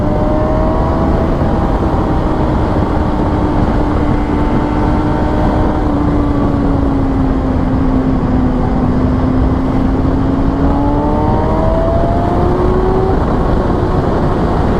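A 2014 Kawasaki ZX-6R 636 supersport motorcycle engine pulls hard after a two-gear downshift, its steady high-pitched drone rising and falling in pitch, loud and close amid constant wind rush.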